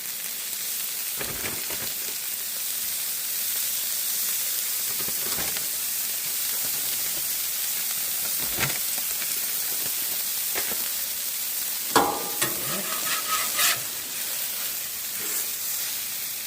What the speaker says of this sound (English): Fried cheese action going right there, huh?